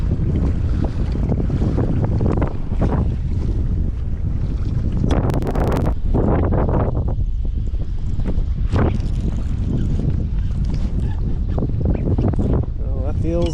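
Strong wind buffets the microphone out on open water during a fishing trip, with loud gusty rumbles and bursts, while a voice talks intermittently.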